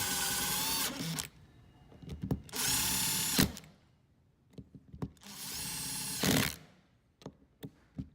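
A power tool drives the Allen bolts back into a PP123 micro pinner in three loud whirring bursts of about a second each, separated by quiet handling clicks and knocks.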